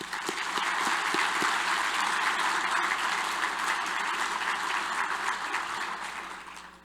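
Conference audience at a morning economic outlook summit claps steadily for sponsors and co-hosts, a full, continuous wash of applause lasting several seconds without talk.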